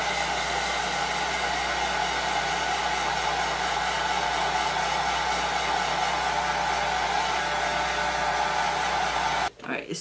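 A hair dryer on a low setting blows steadily and loudly up close while drying a wig, a continuous rushing hum that cuts off abruptly near the end.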